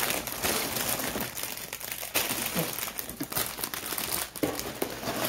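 Plastic bags inside a Lego City fire station set box rustle and crinkle continuously as they are handled up close, with sharper crackles and scrunches scattered through.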